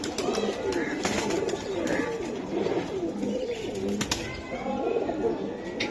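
Silver Giribaz pigeons coo in soft, repeated rolling calls that continue throughout, with faint voices murmuring in the background.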